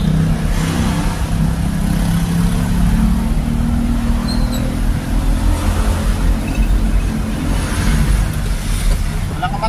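Heavy traffic jam at Bungad with cars and trucks: a loud, continuous low rumble of engines nearby, with passing vehicles swelling and fading, and a faint voice under the noise.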